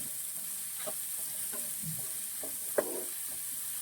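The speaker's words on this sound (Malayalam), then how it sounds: "ഇത് നന്നായിട്ടൊന്ന് വഴട്ടെ." Green chillies and onions sauté in a pan for a stew, a faint, steady hiss of frying with a few soft stirring clicks and one sharper knock, heard close and without talk.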